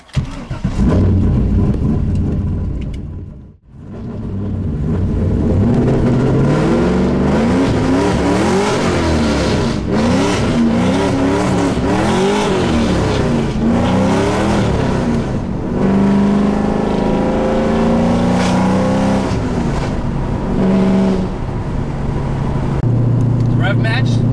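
A Pontiac Trans Am engine starts and idles close by, revving up and down repeatedly with a rough, steady rumble, voices talking faintly underneath.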